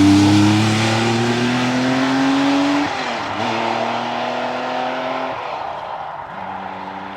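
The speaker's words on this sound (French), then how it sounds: "Allez, c'est une Porsche, ça freine." A Porsche rally car at a rally event, loud and close, its engine note dropping under braking and then rising again as it accelerates away past the listener, with a steady roar throughout.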